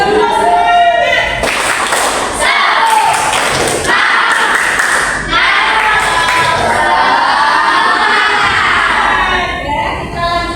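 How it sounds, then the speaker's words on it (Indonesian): An audience at a school counselling session claps and cheers in bursts, loud and close, with children shouting over the applause and a voice speaking between the claps. "Belum? Lagi. Tepuk semangat."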